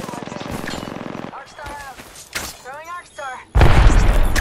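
Gunfire in Apex Legends: a burst of rapid automatic shots, then short game voice and effect sounds, ending in a loud sustained volley of close, heavy fire.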